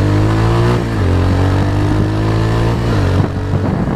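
An Italika 250 Z motorcycle engine accelerates hard, a loud close mid-pitched drone that climbs in pitch, dips briefly as it shifts, and rises again without pause, with no voices.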